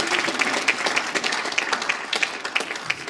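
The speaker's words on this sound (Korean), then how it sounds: "먼저 여기 나와 계신 분들 위해서 박수로 한번 격려해 주시면 감사하겠습니다." Audience at a Korean church leaders' panel discussion applauding the panelists: lively, dense clapping with sharp individual claps standing out, close and moderately loud, no speech over it.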